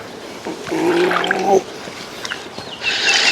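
Water gurgles and trickles out of an iGarden K36 robotic pool cleaner as it is lifted from a swimming pool, a steady close draining splash for about a second, then fainter drips and a brief hiss.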